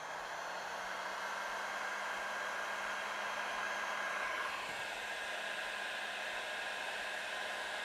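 A heat gun blows a steady, even hiss of hot air as it shrinks heat shrink tubing over a wire connector, part of a lighting upgrade on a Toyota 4Runner; the tone holds constant for the whole stretch, close by and with no talking.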